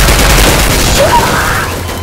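Gunfire rings out while shooting zombies in the Roblox game Contact A-888, a loud dense burst of shots and booms that runs throughout.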